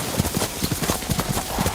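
A horse gallops in Ghost of Tsushima, its hooves striking in a quick, steady three-beat rhythm, close and clear with no talk over it.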